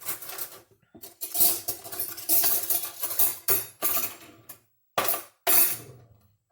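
A protein bite mixture of dark chocolate, raspberry and espresso being stirred in a bowl, giving quiet, uneven bursts of clinking and scraping with short silent gaps between strokes.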